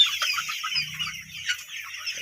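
Healthy hens clucking on a well-kept poultry farm, a busy cluster of short calls repeating close by throughout, with no talk over them.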